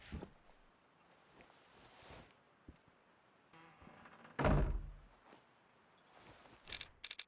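A door shuts in the hunting video game Way of the Hunter, a single solid thunk near the middle against quiet ambient background, with faint softer knocks around it.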